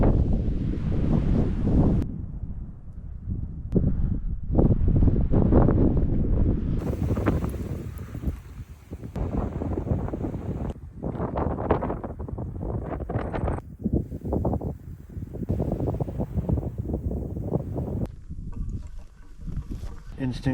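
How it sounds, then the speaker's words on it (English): Strong wind gusts buffet the microphone in the Texas mountains, roaring in uneven surges that rise and fall throughout. "I'm pretty cold right now because the wind is blowing on me."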